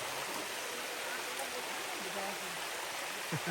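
Water in a stream at a scenic spot in Misamis Occidental rushes in a steady, broad hiss, with a voice faintly present underneath the flow.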